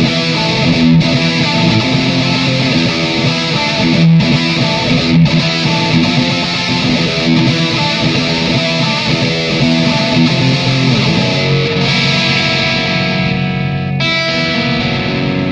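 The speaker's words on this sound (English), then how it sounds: "On a high-gain setting with the scooped mids, this pedal will clean up enough for a heavy rhythm tone." Electric guitar played through a Barber Dirty Bomb distortion pedal on a high-gain setting with scooped mids, chugging heavy rhythm riffs loud and continuous with thick saturated tone and a few brief stops.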